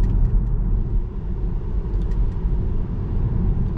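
A Tesla Model 3 drives through thick fog in the dark at 5 a.m., heard from inside as a steady low road rumble and tire noise, continuous and even without any talk.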